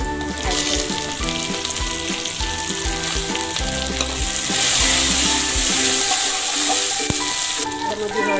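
Chopped tomatoes hit well-browned onions in a hot pan, raising a loud, dense, continuous sizzle that swells midway, with a few stirring clatters up close and no voices.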